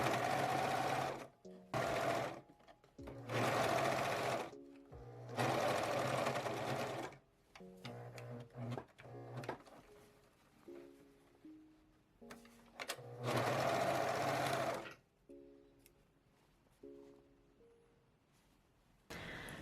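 A sewing machine stitches across a pocket on a dressing gown skirt in several separate bursts of fast motor whir, with short pauses and quieter mechanical clicks between runs, close up.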